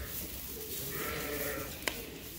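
A Dorset ewe lamb on a sheep farm bleats faintly over steady background noise, a soft drawn-out call near the middle, with a brief sharp knock toward the end.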